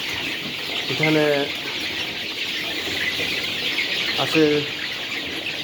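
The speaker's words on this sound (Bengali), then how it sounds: "রুমের ভিতরে বাইরে 2000 মুরগি আছে" Desi chickens clucking on a farm in Saudi Arabia with about 2000 birds, two short clucking bursts standing out over a steady hum of the flock, with someone briefly speaking nearby.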